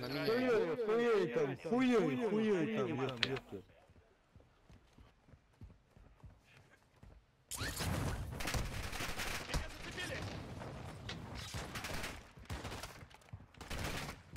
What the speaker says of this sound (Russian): Еще справа кто-то стреляет.